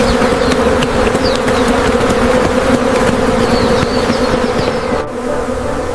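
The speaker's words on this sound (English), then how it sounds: "The bees are coming!" A dense, steady buzzing of many bees, loud and continuous, with a steady hum throughout and a brief dip near the end.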